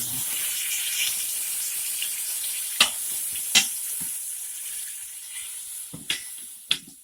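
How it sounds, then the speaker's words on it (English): Beef pot roast browning in an Instant Pot, a steady close sizzle and hiss of frying meat throughout, with occasional sharp pops and taps of a utensil against the pot. "it's just about finished browning on all the edges, sides."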